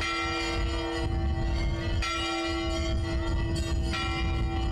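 Church bells ring out over the village of Butovo in the Yakovlevsky district at a newly built church, sustained tolling with clear struck strokes roughly every second or two, loud and continuous, without voices.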